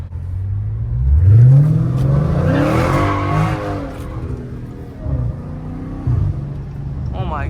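A Dodge Challenger Scat Pack 392 V8 roars and revs hard while drifting through a corner, with a rising engine note and tire squeal. The car is loud and close, then settles into a lower rumble with a brief second surge.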